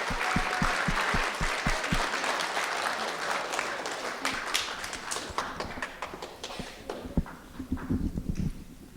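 At a children's speech competition final, the audience opens with steady rhythmic clapping in unison, then breaks into dense, loud applause that carries on with sharp scattered claps.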